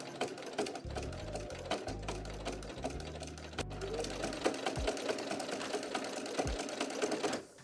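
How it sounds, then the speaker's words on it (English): Sewing machine back stitching fabric a little under a quarter centimeter from a serger line, steady mechanical whirring in short bursts with brief pauses, close and fairly loud. "I'm gonna back stitch."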